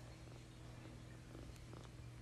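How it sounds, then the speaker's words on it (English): A cat purring softly and steadily at close range, a low continuous rumbling purr with no talk. "Are you purring?"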